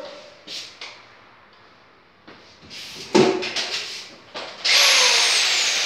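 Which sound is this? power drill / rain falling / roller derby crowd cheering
power drill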